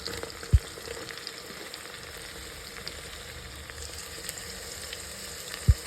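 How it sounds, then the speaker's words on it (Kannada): Mushrooms fry in a pan for biryani, an even, close hissing sizzle with soft crackles and two sharp knocks of a utensil near the start and end, no voices. "ಮಶ್ರೂಮ್ ಹಾಕ್ಬಿಟ್ಟು ಸ್ವಲ್ಪ ಫ್ರೈ ಮಾಡ್ಕೊತೀನಿ."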